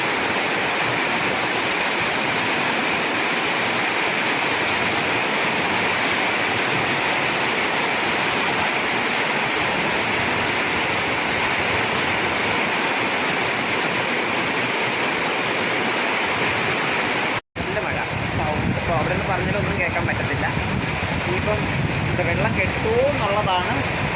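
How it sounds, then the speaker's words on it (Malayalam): Heavy rain roars steadily as a dense, continuous wash, briefly cutting out, then resuming with voices speaking under the downpour. "ഒരു രക്ഷയില്ലാത്ത മഴയാണ് നല്ല മഴയുണ്ട്"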